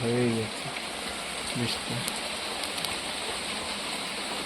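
Heavy rain pours outdoors beside a fish pond, a dense, steady wash of hiss running through the whole stretch, with a brief voice near the start and another murmur a little later.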